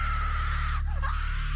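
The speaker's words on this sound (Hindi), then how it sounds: "फिर एक दिन हमारी बाई आंगन में बंधी तार पर कपड़े डाल रही थी कि अचानक उसके चीखने की आवाज आई" Woman screaming in a horror story sound effect: a single loud wailing shriek that rises and bends over a dense droning background, close and sustained.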